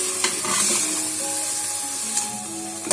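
Pumpkin halwa simmering in milk, stirred with a spoon: a steady soft bubbling sizzle with scattered scrapes and taps of the spoon against the pot, close and continuous throughout.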